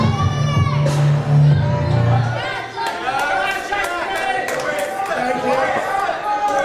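Crowd at a live pro wrestling event chattering and calling out steadily, with scattered whoops and shouts after a match, a voice speaking over the noise at the start.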